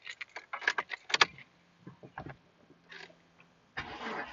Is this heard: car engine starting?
yes